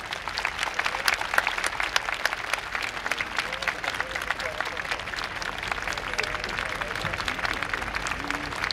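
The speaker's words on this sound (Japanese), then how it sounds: "大きな拍手でお迎えください" A big crowd at the YOSAKOI festival's outdoor finals stage in Sendai claps steadily to welcome the judges onstage, with sharp hand claps throughout and faint voices in the background.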